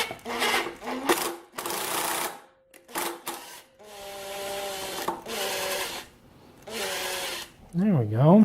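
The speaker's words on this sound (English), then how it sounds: "my idea is to actually drill these holes out larger" A drill enlarges bolt holes in a motorcycle frame in several separate runs. Each run gives a whining, grinding sound that rises and falls, with pauses between the passes.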